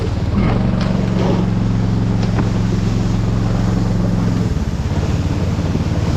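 Snowmobile engine drones steadily while riding over wet snow in the taiga, a loud close motor hum with wind buffeting that eases near the end.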